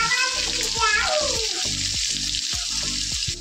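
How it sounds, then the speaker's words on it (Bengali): Onion frying in a pan, producing a loud, steady sizzle close by, with a voice talking over it. "পেঁয়াজটাকে দিয়ে দিই, একটু ভাজা হোক"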